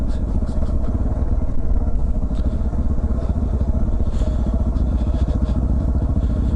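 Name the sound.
dual sport motorcycle cruising downhill in second gear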